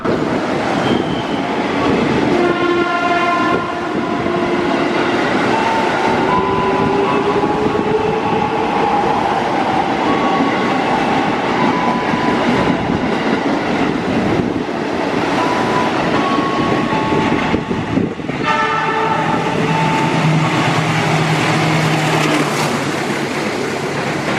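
A KRL commuter electric train at Klari station rumbles loud and steady throughout, with long horn-like tones sounding near the start and again around twenty seconds over the rolling rail noise.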